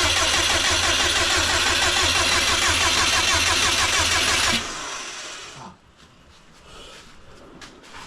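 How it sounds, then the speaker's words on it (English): A Subaru WRX with a fender-exit exhaust, freshly manual-swapped, fires up on starter fluid and runs loud and close for about four and a half seconds, then cuts off abruptly, leaving faint rattles and a quiet room. "So we did get it to start with some starter fluid. So and it ran."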